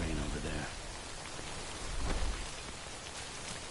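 Steady rain pours across the scene in the video game Death Stranding, a dense, even hiss that swells slightly midway and continues without pause, with no talking heard.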